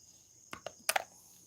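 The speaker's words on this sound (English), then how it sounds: "Crickets chirping in the background." Crickets chirp faintly in the background, with a few short bursts of clicks and knocks rising briefly above a quiet, steady night ambience.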